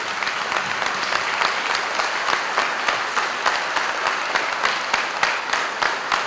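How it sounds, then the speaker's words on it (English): An audience claps steadily and warmly at a school ribbon cutting ceremony for Struble Elementary, a dense, sustained round of applause from a crowd nearby, heard alone throughout. "A big round of applause for all of our Struble families."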